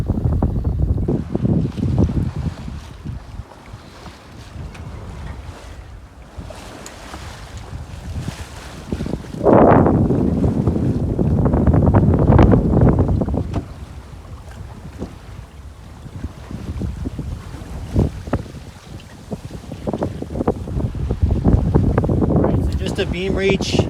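Wind and water rush around a sailboat heading out single-handed in early December toward Victoria, B.C., with steady gusty noise, wave wash against the hull and microphone buffeting that swells mid-clip, with no talk.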